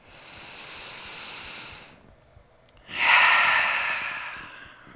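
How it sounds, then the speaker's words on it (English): A deep in-breath during a yoga breathing exercise, a close, airy breath that swells and fades, followed by a short pause and a stronger, louder breath. "We'll breathe in together."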